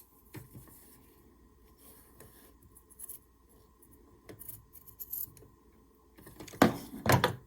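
Scissors snip along the edge of a small quilt to trim it, faint soft cuts through the middle and a few louder, sharper snips near the end, close up in a quiet room.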